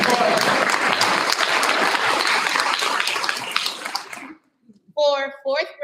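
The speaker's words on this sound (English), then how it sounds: "Round of applause." Applause at a school board meeting fills the room, a dense wash of clapping for about four seconds that fades out, followed by a voice speaking briefly.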